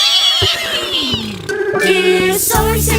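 A person imitates a horse neigh, a loud, wavering whinny with rising and falling pitch lasting about three seconds.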